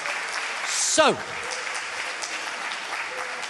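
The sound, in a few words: audience round of applause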